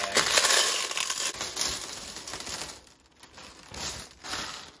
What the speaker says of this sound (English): put these back in the bag